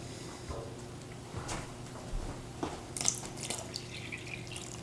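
Water poured from a cup into a mound of flour to make hardtack dough, a soft trickling splash close by with light clinks, no talking over it.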